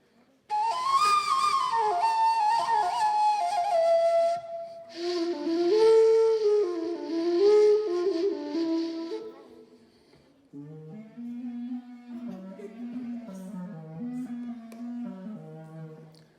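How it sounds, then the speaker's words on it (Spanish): A kaval, a wooden shepherd's flute, plays a breathy, wavering, ornamented melody in phrases, close and clear, with short pauses between passages. "El cabal es un tubo totalmente hueco, hecho de madera, que tocan los pastores y suena así"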